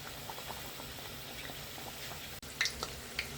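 Potato samosas deep frying in hot oil, a steady low bubbling boil throughout with a few sharper pops and splashes near the end, no voices.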